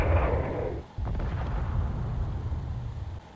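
A cannon fires in Space Engineers, a space video game. A deep booming blast rolls out, then a second heavy thud follows about a second later, with a long rumbling tail that hangs on afterward.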